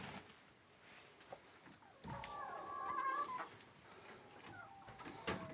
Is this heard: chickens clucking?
yes